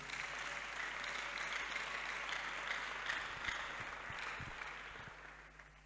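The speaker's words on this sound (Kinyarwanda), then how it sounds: "Amashyi ku Mana yacu." A church congregation applauds during a sermon, with dense, even clapping that stays steady throughout and fades slightly toward the end.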